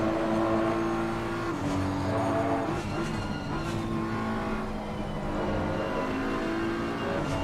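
Several GT3 race cars in Assetto Corsa Competizione are heard on the Donington circuit through Old Hairpin. The engines give a constant loud, buzzing drone, rising and falling in pitch as they downshift and accelerate, and they overlap with no break over several seconds.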